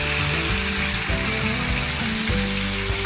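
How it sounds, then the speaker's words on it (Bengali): Katla fish fry steadily in a pan of oil over a medium gas flame, giving a loud, continuous sizzle and crackle that holds for the whole stretch with no talk. "গ্যাসের আঁচটা মিডিয়ামে রেখে আমি মাছগুলো ভাজছি।"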